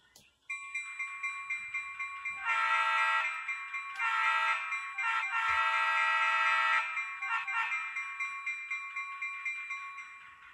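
A Minnesota Commercial CF7 model locomotive's DCC electronic sound effects: a steady, buzzing horn-like tone that swells loud in long blasts, over a rhythmic chugging pulse.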